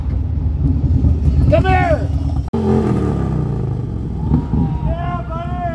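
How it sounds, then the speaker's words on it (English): Motorcycles roar past at a Port Alberni toy run, engines revving and sweeping by in loud passes, heard beneath close talking and a shout. "I just realized what all the noise of the motorbikes is."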